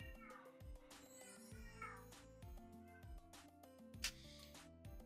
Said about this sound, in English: can y'all hear my cat in the background meowing?